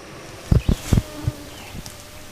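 Insects buzzing around geocachers outdoors on a rural road, a faint hum under a few close, dull thumps and rustles, with no talk.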